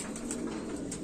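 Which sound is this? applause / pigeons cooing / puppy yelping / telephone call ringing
pigeons cooing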